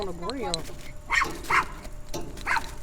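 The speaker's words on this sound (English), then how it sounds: "The dog is excited to see me." An excited dog barks in short bursts outdoors near a grill, with several yips spread through the moment while a person talks over them.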